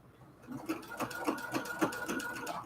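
A sewing machine fitted with a walking foot runs steadily while stitching quilt pillowcases, a close, quiet, rapid mechanical clatter with an even pulsing rhythm throughout.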